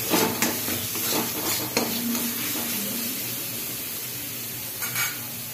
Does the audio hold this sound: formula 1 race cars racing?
no